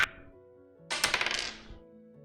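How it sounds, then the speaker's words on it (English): Dice rattling and clicking in a hand during a tabletop Dungeons & Dragons game: after a brief lull, a close burst of quick, bright clicks that fades over about a second, with no talking. "I like the clicking sound in my hand."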